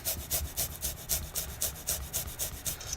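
Garlic scraped over a microplane grater into pizza sauce, about a dozen quick, even rasping strokes in a steady rhythm, close and clear for three seconds.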